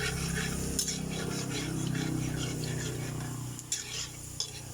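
Chopped jackfruit sautés in a pan after the aromatics, giving a steady sizzle with occasional scrapes and stirs of a utensil against the metal.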